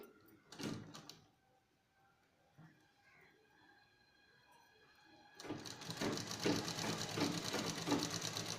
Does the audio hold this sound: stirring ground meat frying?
no